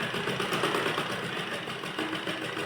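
A sewing machine runs steadily, stitching folded blouse fabric with a fast, even mechanical whir and rhythmic clatter, close and loud throughout with no pauses.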